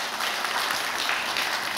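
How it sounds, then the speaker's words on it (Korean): An audience gives a short, continuous round of clapping for Swiss lawmakers, a dense burst of applause lasting under two seconds with no talking over it. "스위스 국회의원들을 위해서 박수 한번 쳐주세요"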